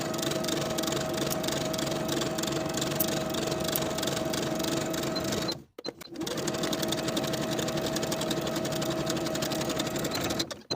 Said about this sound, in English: Sew each pocket in place with a 3/8 inch seam allowance